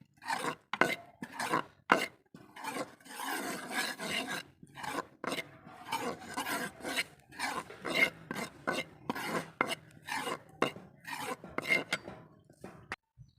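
Gram flour being stirred and roasted in ghee for besan halwa, heard as a steady run of scraping, rasping strokes of a spoon against the pan, close and fairly loud, with brief pauses between bursts.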